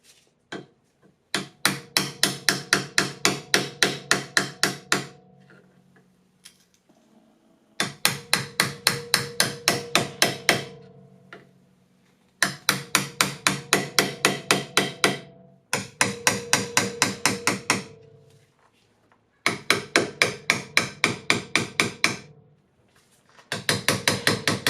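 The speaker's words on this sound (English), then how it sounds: "I got a wood chisel because it's flat down here" A hammer drives a flat wood chisel into the inner axle joint of a 2008 Acura MDX. Bursts of rapid, evenly spaced metallic blows repeat close up, with short pauses between each burst.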